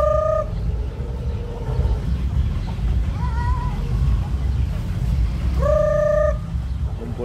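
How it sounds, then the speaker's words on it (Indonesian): Chickens, including roosters, flock together to feed on broken corn kernels at an outdoor yard, with crowing and clucking calls rising over a steady rumble of background noise while people talk nearby. "Kumpul ayam semua."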